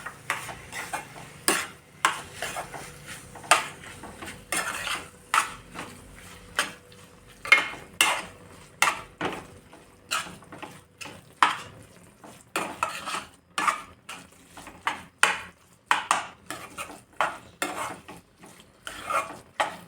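A spoon stirs grated paneer in a pan for paneer bhurji, with rapid, irregular scraping and clinking strokes against the metal, close and fairly loud, with no voices.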